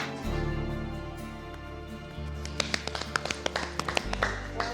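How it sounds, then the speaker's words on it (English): A trained raccoon shuts cupboard doors one after another, a run of sharp knocks and taps over a steady low background hum, with no talking. "Close the cupboard."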